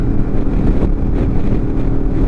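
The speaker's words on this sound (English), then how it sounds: "This bike is off like a shot." A Harley-Davidson Pan America Special motorcycle accelerates hard up an on-ramp, its engine a loud, continuous close roar mixed with heavy wind rush and no speech.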